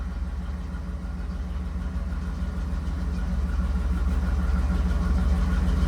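A 1984 Camaro Z28 idles with an exhaust leak, giving a steady low rumble with a faint ticking pulse that grows slightly louder, close by and with no talk.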